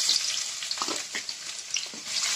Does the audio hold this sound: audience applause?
no